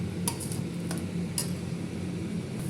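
Egg gravy stirred in a pan, with a few soft scraping and clinking strokes of a spoon against the metal at a steady low level, over a faint background hum.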